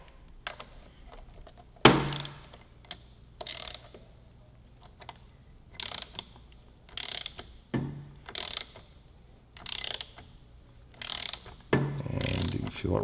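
Ratcheting clicks from a Motion Pro PBR chain tool as it pushes a pin out of a motorcycle chain, coming in regular short bursts separated by brief pauses, close up with no talking.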